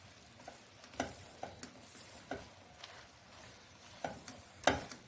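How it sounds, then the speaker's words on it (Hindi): Vegetables and tender green peas being sautéed in an uncovered pot, a quiet sizzle broken by scattered scraping and stirring knocks from a spoon, with no voices. "तो इसे हम अच्छे से भून लेते हैं।"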